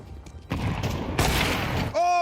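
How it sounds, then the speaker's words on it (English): A flashbang grenade going off in Counter-Strike 2, a burst of loud crackling bangs followed by a sharp high ringing tone, with voices talking over the game noise. "Flashbang."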